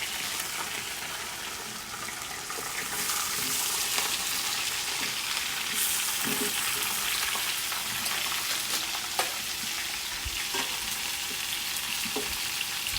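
Vegetables sizzle and fry steadily on an Oz Pig wood stove, a continuous close hiss with faint scattered crackles and occasional stirring clinks, no talking over it.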